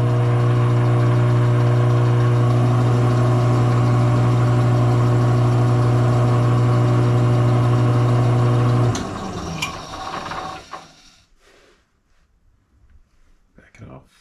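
A lathe cutting metric threads runs with a steady, loud mechanical hum and whine for about nine seconds, then stops and winds down, leaving faint clicks and handling noises.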